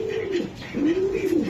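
Racing pigeons coo nearby in two clear, drawn-out rolling calls, with no talk over them.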